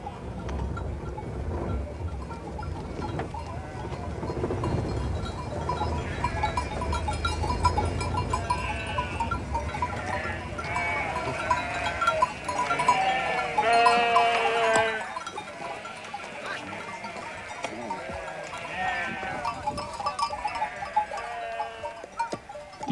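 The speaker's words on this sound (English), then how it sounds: "The road is frequently blocked by herds of sheep." Herds of sheep crowd a mountain road in Kyrgyzstan, bleating and shuffling in a dense, continuous din with occasional clanking bells, loud and close throughout without talk.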